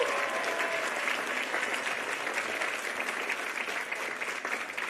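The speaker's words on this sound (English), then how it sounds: "Give another round of applause for Teacher of the Year." A crowd at the Braille Challenge Finals award ceremony applauds the Teacher of the Year with continuous, even clapping that stays full and unbroken throughout.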